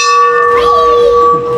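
A temple bell at a Ganpati celebration in Mumbai is struck once and rings loud and close with a sustained metallic tone, its shimmer fading slowly, while a voice speaks faintly in the background.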